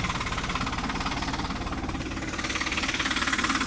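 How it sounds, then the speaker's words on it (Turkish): A backhoe loader's diesel engine runs steadily with a knocking, pulsing idle at a close distance, loud and unbroken throughout. "Bak hiç tutmuyor motor duruyor mu?"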